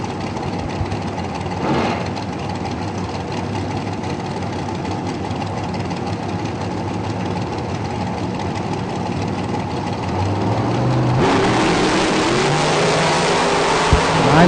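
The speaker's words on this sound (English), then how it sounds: "Eric Amon out of Mount Olive, North Carolina, in his dragster, about 457." Loud dragster engines rumble and idle at an IHRA drag strip, a heavy continuous roar that swells and grows harsher toward the end with a sharp bang near the close.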